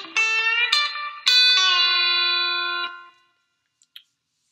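Electric guitar solo lick from a song, country style: a few quick picked notes, then a bright sustained note ringing out for nearly two seconds before fading, played alone with no talk.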